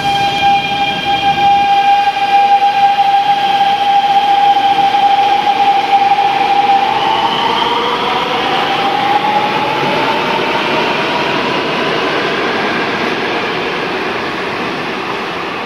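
A Seoul subway train runs through a tunnel with a loud, continuous rushing roar and a high whine that slides in pitch as it moves, heard alone without voices.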